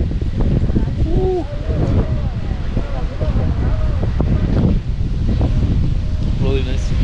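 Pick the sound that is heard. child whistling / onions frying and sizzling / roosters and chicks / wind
wind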